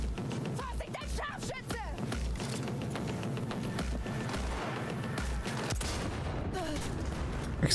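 Gunfire in the video game Cyberpunk 2077 during a firefight: rapid bursts of shots and impacts crowd a dense, loud battle soundscape, while someone talks over the action.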